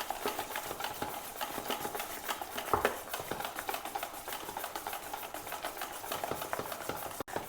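Bonda batter beaten by hand in a bowl, a quick steady run of soft wet slaps and squelches, close and fairly quiet, with no talking.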